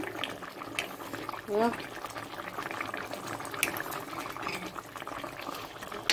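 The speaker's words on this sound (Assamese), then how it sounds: "পানী দি দিলোঁ এতিয়া উতলিব দিম" Water bubbles and boils in a pot for fish curry, a continuous close simmer with occasional gurgles and splashes, and a voice talks over it.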